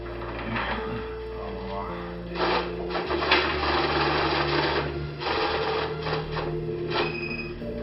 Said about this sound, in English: That noise you're hearing is a money counter.